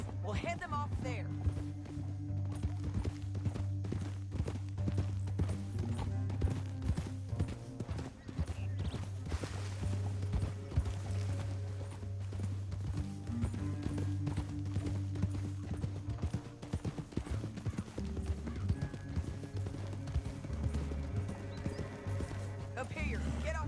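Hoofbeats of horses in the video game Red Dead Redemption 2 clop along steadily beneath a swelling orchestral score, with occasional voices and effects layered over the music.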